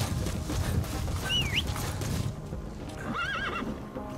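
A horse in the video game Metal Gear Solid V whinnies twice, rising and wavering, over steady clip-clopping hooves and background noise, loud and close.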